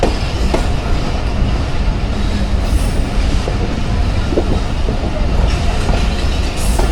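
The 42 Down Karakoram Express pulls into Kotri Junction with a steady, loud rumble of rail cars and a faint clatter of wheels on track throughout, with no break in the noise.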